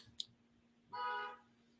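A single short car horn toot sounds faintly in the background for about half a second, preceded by a sharp little click.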